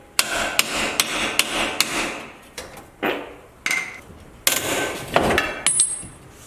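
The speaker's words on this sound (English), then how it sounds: "taking a big chisel and just trying to break it free" A big chisel hammered against a rusted, seized leaf spring perch pin on a Jeep Cherokee, ringing out in loud, sharp metallic strikes, first in a quick regular series, then more spaced and uneven blows, with no talking.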